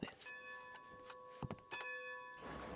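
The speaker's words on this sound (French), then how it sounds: "On enclenche la cloche pour dire que le train est en marche et qu'on part de la station." A locomotive bell in the video game Red Dead Redemption 2 rings as a train departs a station, a few bright metallic chimes sustaining evenly over a low rumbling background with occasional knocks.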